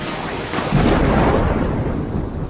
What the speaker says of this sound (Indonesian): Wah, petir.